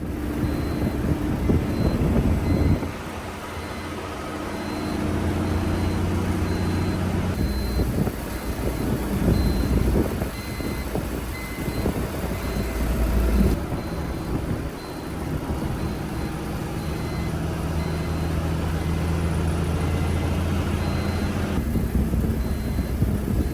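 A CTU HVAC seater bus sits with its engine running before departing from Jammu toward Chandigarh, giving a steady loud diesel rumble mixed with wind and outdoor noise, with a faint repeating beep.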